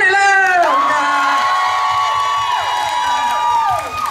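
A concert audience at Singha Complex cheers loudly and steadily, with high whoops and whistle-like calls rising and gliding above a dense crowd roar for the whole stretch.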